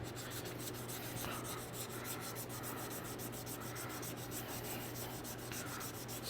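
A knife handle being wet-sanded by hand, a steady gritty rubbing with rhythmic back-and-forth strokes, close and continuous under a low constant hum, with no talk.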